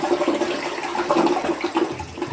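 A household toilet flushes during a repair after its tank has been drained. The water rushes and swirls steadily at close range for the whole stretch, with no one talking.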